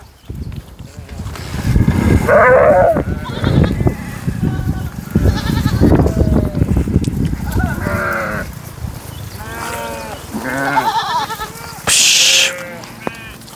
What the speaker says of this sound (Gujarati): જો કેટા બકરા